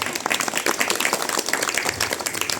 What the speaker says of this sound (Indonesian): Jadi tepuk tangan untuk Karang Taruna.